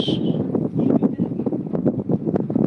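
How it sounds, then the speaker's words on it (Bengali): Strong wind buffets the microphone in gusty, uneven rumbling bursts, loud and close throughout with no talking. "প্রচন্ড বাতাস"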